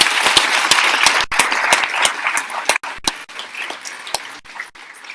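Auditorium audience at an Arangetram dance recital applauds the backstage volunteers, a loud, close burst of many clapping hands that gradually thins out, with individual claps growing sparser toward the end.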